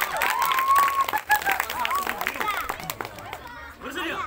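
People clap hands during a group practice session for a martial arts match, with scattered clapping mixed into crowd chatter, shouts and voices that dominate throughout.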